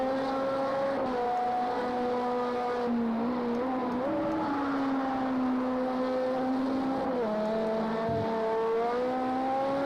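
Toyota race car engine at the start of the 24 Hours of Le Mans in the racing game Project CARS 2, a loud, close, continuous high whine that rises and drops with gear changes.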